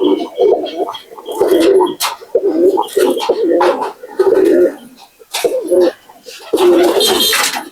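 Pigeons in a hobbyist's loft coo in repeated throaty bursts, close and fairly loud, with short pauses between phrases and some rustling and sharper noises mixed in.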